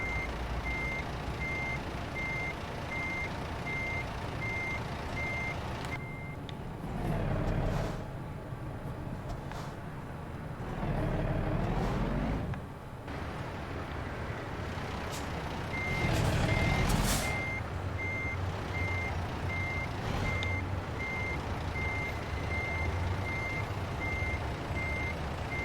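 Steady repeating backup beeps from a semi truck reversing a trailer into a parking spot in American Truck Simulator, heard over a constant engine drone with passing engine swells and air hiss.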